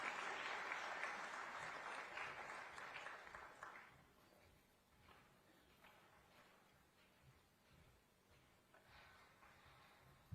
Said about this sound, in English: A big round of applause for Sheila.